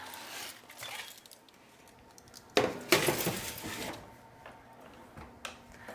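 A baking dish slid back into a home oven, with a sharp glassy clink and a rattle of racks around the middle, then faint knocks and clatter nearby.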